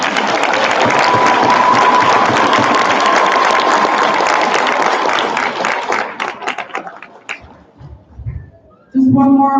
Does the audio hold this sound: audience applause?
yes